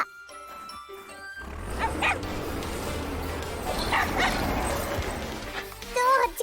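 A cartoon puppy barks and yips in short bursts, near and fairly loud over background music and sound effects, with a final flurry of yelps at the end.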